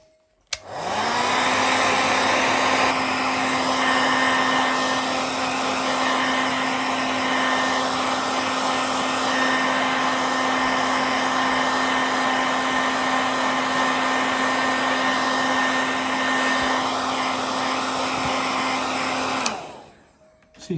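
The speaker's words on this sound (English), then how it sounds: "then we're going to dry with the hairdryer" A hairdryer dries a shoe that was just wiped with alcohol cleaner, switching on sharply and blowing a loud, steady rushing whoosh with a motor hum for about nineteen seconds before clicking off, with no talk.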